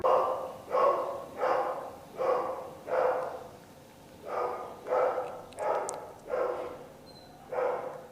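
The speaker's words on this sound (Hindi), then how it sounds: "ये कुत्ते के भौंकने की आवाज सुन रहे हैं आप?" A dog barks in a steady series of about nine evenly spaced woofs at moderate distance, with short pauses between them and no voices.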